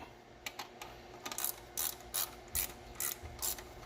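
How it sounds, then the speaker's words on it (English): Hand ratchet clicking on a Mustang header bolt, close and quiet, in a series of short bursts of rapid pawl clicks spaced by brief pauses, with no talk. "Handy dandy ratchet"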